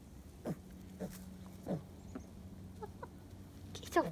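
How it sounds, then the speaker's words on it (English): A homestead chicken gives a few scattered clucks, soft and spaced out, over low farmyard background noise. "Look at this chicken."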